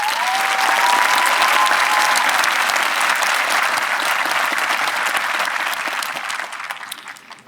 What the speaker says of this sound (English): nobody deserves a greater round of applause than cricket